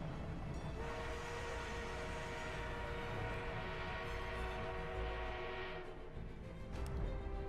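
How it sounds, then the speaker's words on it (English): An armored train arrives in the Battlefield 1 video game, rumbling steadily with a sustained horn or whistle tone, moderately loud over battlefield ambience, with no talking. "We are being reinforced with an armored train."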